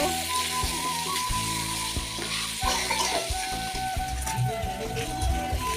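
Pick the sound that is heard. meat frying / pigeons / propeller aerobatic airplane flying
meat frying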